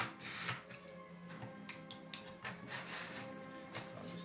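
A knife makes a few quick cuts through a corrugated board sample, trimming it to width: faint scraping and rasping strokes, close and quiet, with no voices over them.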